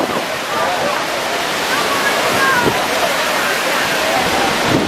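Niagara Falls roars as a dense, steady wash of falling water, loud and constant, with a person's voice faintly audible under it.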